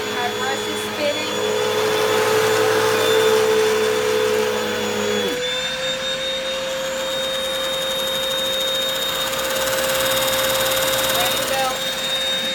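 A Hoover Total Home Pet vacuum cleaner runs steadily up close with its brush spinning, a loud continuous motor whine that drops in pitch partway through and then holds a new steady drone.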